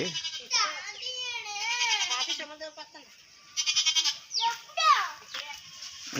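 Goats bleat repeatedly in a village during a festival visit, wavering cries close by mixed with children's voices and chatter.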